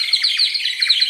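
Water-filled bird whistle toy being blown, giving a rapid warbling chirp that repeats steadily, close and fairly loud, with no talking.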